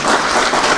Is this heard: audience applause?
yes